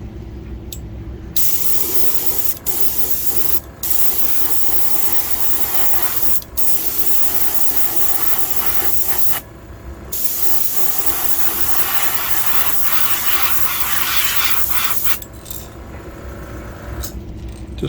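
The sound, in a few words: spray coating color shift paint onto Megabass lure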